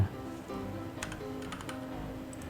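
Quiet clicking of computer keyboard keys while working in Roblox Studio, a few soft keystrokes in a short burst under faint background tones.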